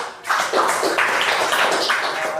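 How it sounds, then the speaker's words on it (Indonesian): A classroom audience in a computer lab claps together, a dense, steady patter of hands starting abruptly after a brief quiet and continuing evenly throughout. "Tepuk tangan buat Cuk."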